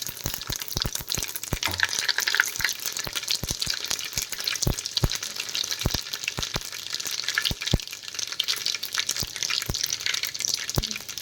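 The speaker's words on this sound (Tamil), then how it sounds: "கடுகு நல்லா பொரிஞ்சிருச்சு" Mustard, cumin and fenugreek seeds spluttering in hot oil for tempering, with rapid irregular pops and crackles over a steady sizzle, close and continuous.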